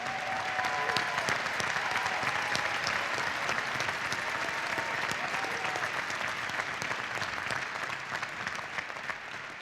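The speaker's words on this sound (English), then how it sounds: "please give a round of applause to the doctorate degree recipients" Steady, sustained applause fills a large hall at a 2016 fall university commencement ceremony in Milwaukee, with a crowd clapping continuously for doctorate degree recipients and the sound holding at an even level throughout.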